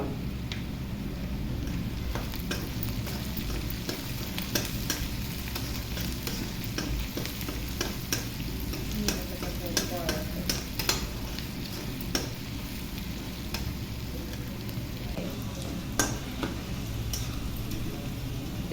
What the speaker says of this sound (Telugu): మంచి కలర్ వచ్చే వరకు అయితే వేయించుకోవాలండి